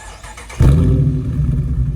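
A Dodge Challenger SXT sits quiet for about half a second, then its engine cranks and fires with a sudden loud burst before settling into a steady, deep, rumbling idle.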